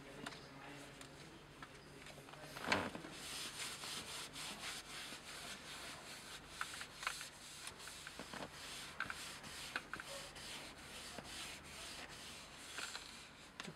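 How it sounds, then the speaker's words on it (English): A clean cloth is rubbed over leather to wipe away ink-remover residue, giving a soft continuous scrubbing and swishing, faint and close, with a brief louder scrape near the start. "use a clean cloth to remove the residue"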